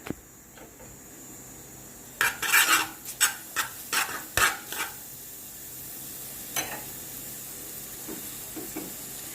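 Garlic dropped into melting butter in a pan for a Jamaican callaloo-stuffed roast fish, with a burst of clinking utensil scrapes and stirring clatter over a soft steady sizzle, then quieter occasional taps.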